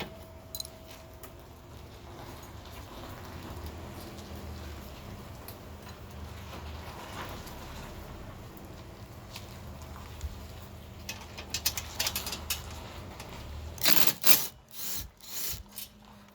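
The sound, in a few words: removing seat back bolts, Gio Titan chair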